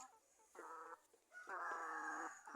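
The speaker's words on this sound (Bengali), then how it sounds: "খাওয়ানটা লই আইলে আমার দ্বারে সব মুরগ আইব" Chickens clucking with a rooster among them at feeding time in a farmyard, two bursts of close, loud clucking calls with a short pause between.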